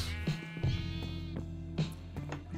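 Sheep in the Minecraft video game give several clear, close bleats in a row, each with a slightly nasal tone, over a faint steady background hum.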